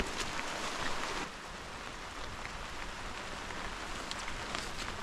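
Rain pours steadily on Mount Buhangin in Surigao del Norte, a constant broad patter with individual drops striking nearby surfaces, slightly heavier at first then easing to an even wash.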